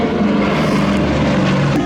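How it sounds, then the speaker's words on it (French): A Douglas Dakota propeller aircraft passes at an air show, its twin engines a loud, continuous droning roar filling the whole moment. "pas loin de 900 Dakota, comme celui qui revient face à nous."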